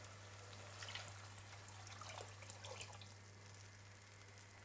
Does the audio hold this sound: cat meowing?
no